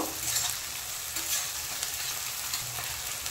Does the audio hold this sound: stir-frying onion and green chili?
yes